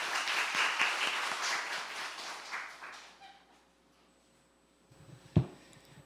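An audience at a policy debate forum on a rare women's liver disease claps steadily. The applause fades out after about three seconds into a quiet room, broken by a single sharp thump.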